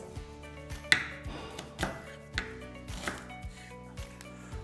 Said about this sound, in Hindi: और उसे अच्छे से धोने के बाद हम यूं काट लेंगे, रफली कट।